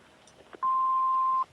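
An answering machine's voicemail beep sounds once, a single clean sustained electronic tone lasting under a second, preceded by faint faint clicks and brief murmurs.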